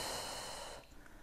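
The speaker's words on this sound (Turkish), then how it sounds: "Nefes al." During a pregnancy exercise, a single close breath is drawn in as a soft airy hiss that fades out after under a second, followed by quiet.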